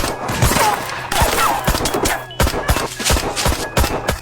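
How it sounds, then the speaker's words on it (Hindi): Bursts of gunfire in a thriller movie scene, sharp repeated cracks in irregular clusters over busy background sound. "महिला ने उन पर गोलियां बरसा दी।"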